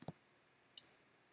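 Two quiet computer mouse clicks, about 0.7 seconds apart, while filters are set up in integration software; faint and crisp against a near-silent background.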